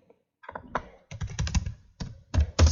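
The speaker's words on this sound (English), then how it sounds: "and now I'm typing" Someone types on a computer keyboard during a Metasploit penetration-testing session, with uneven bursts of close, crisp keystrokes separated by short pauses.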